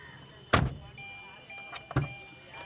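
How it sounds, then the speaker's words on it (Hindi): Two solid car-door thuds from a Tata Tiago XT hatchback, about a second and a half apart, close and fairly loud, against a quiet background hum. "तो एक बार आइए इस डोर के थर्ड साउंड को सुन लेते हैं हम लोग"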